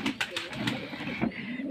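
Large Giribaz pigeons coo at a pigeon farm in Bangladesh, several soft rhythmic coos repeating close by with faint background chatter of other birds.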